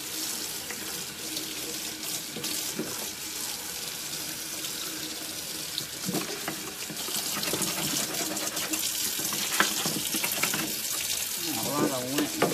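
Cricut cutting mats rinsed under a running tap into a sink, a continuous splashing hiss that shifts and grows louder as the mat moves through the stream, with brief faint voice sounds.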